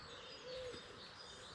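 A common wood pigeon coos once, soft and distant, in a hotel garden in Brandon at early morning, a brief low hooting note over faint background hiss.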